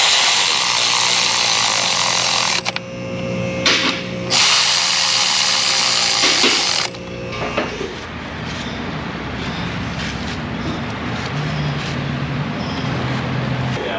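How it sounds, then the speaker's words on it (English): A loud, high-pitched power tool tightens bolts in an auto repair shop, whirring in several bursts with short pauses, then gives way to quieter workshop background noise. "Gotta tighten these bolts."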